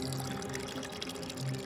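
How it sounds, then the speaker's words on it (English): Water pours into a cup set on a tomb in a Cairo cemetery, a soft continuous gurgle and trickle heard close and alone, with no talk. "the guardian of the cemetery places a cup of water on each tomb"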